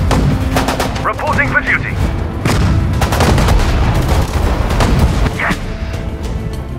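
Rattling gunfire and heavy artillery booms in the desert battle of El Alamein in Sudden Strike 4, dense and continuous, with soldiers' voice lines cutting in over the shooting.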